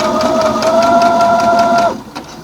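Sewing machine stitching a spooky Halloween quilt, a loud close motor whir with a steady rapid needle rhythm for about two seconds before it winds down and stops.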